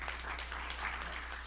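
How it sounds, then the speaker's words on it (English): A gala audience gives a round of applause for Dr. Melanie Spears, a faint, distant, continuous patter of many hands clapping over a low steady hum. "Please give a round of applause for Dr."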